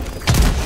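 A grenade blast in the video game Helldivers 2: one sudden deep thump with a broad burst. It lands after a short quiet lead-in, then a low rumble trails off.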